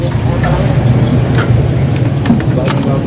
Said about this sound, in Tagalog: pero mga susi boss